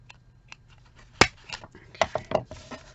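Scissors make a few sharp snips while trimming papercraft card, close and crisp, with quiet handling noise between cuts.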